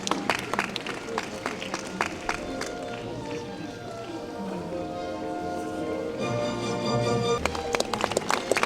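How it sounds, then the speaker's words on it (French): Audience at a Venetian carnival parade in Rosheim applauds costumed performers from Aschaffenburg, a steady mid-distance clapping that swells toward the end, with crowd murmur and music-like tones underneath. "vous les applaudissez bien sûr"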